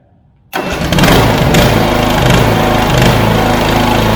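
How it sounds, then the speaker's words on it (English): A Swisher riding mower engine is started by remote: a short silence, then it catches abruptly and settles into a loud, steady, close-up idle. "I'm gonna start the engine up"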